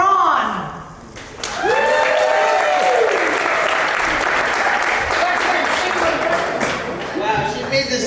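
Comedy-club audience applauding a comedian at a stand-up show in Sterling, Virginia, a dense sustained roar of clapping close and loud after a brief voice at the start.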